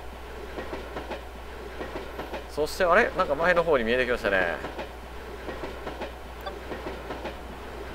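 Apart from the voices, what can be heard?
train running on rails in A-Train 9 video game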